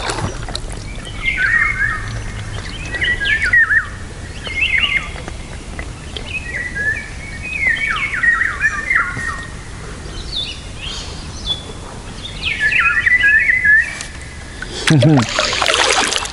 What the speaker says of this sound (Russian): Птицы поют.